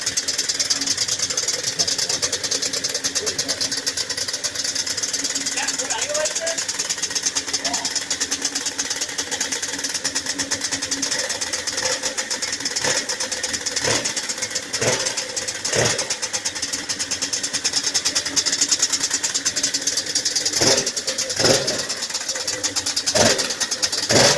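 A Yamaha Banshee 350 two-stroke engine idles steadily and loudly close by after a full rebuild, a constant buzzing drone with a few sharp clicks and knocks in the second half. Voices talk faintly under it at times.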